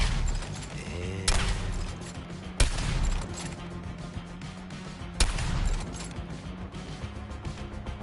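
Gunfire from a third-person shooter video game, Suicide Squad: Kill the Justice League, with repeated bursts and several heavy impacts cutting through dense continuous combat noise and music, loud and close.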